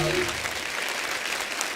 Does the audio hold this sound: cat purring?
no